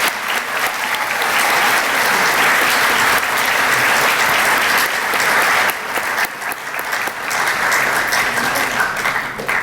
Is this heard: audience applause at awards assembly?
yes